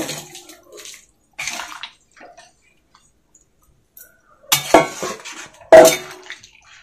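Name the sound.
cauliflower and potatoes added to warm water in pot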